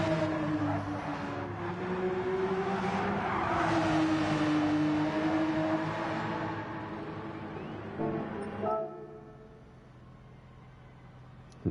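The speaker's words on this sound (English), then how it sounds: "And there's David that's just come out to the pits in the Porsche 911." Porsche 911 GT3 race car engine in Gran Turismo 7, a steady droning whine that rises and dips in pitch, then cuts to a faint low hum near the end.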